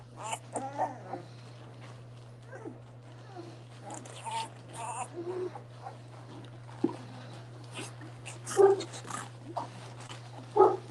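A Boerboel puppy, eleven days old, gives scattered short high whimpers and whines over a steady electrical hum, with light rustling and a few sharper yelps near the end.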